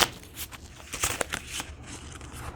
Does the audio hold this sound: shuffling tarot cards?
yes